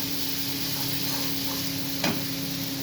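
Fish frying in a small wok as it is stirred: a dense, continuous sizzle with a brief scrape of the spoon near the end.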